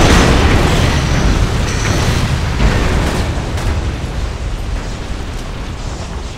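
A big explosion in the video game Resident Evil 6, a loud broad rumbling boom that fills the moment and slowly fades as debris noise settles.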